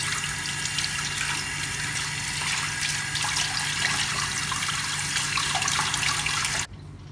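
Tap water runs steadily to rinse foundation out of a thick makeup brush, a continuous splashing hiss that stops abruptly near the end.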